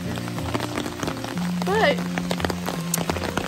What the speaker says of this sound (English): it is absolutely pouring the rain